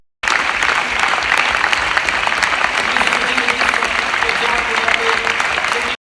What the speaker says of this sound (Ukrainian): Зал вшанував пам'ять про дівчат хвилиною оплесків.